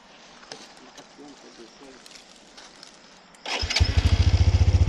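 Quiet low talk, then a motorcycle engine starts abruptly and idles with a loud, throbbing, rapid exhaust pulse close by, at a riverside campsite in Aguilar, Pangasinan.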